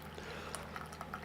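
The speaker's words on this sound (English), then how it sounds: "just pouring a coffee" Coffee being poured into a cup, a soft, quiet liquid trickle with faint splashes under a low background hum.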